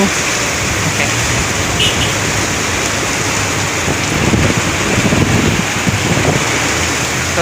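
Heavy rain pours steadily and loudly in a downpour, a dense constant roar of drops on surfaces with no break.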